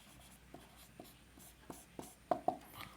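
A pen writing out a maths solution on paper, soft scratchy strokes and taps coming in short irregular bursts about every half second, quiet and close with no talk.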